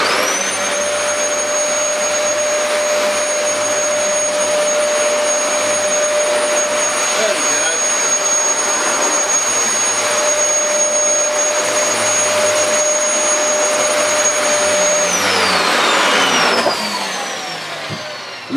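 A Dyson DC14 All-Floors upright vacuum cleaner runs loud and close with a steady high motor whine and airy rush, holding constant for about fifteen seconds before the motor winds down and the pitch falls away.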